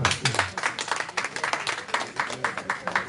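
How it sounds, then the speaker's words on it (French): Audience applause at a press conference held in a café, a dense burst of many hands clapping steadily, fairly close, continuing alone without talk. "Applaudissez ça"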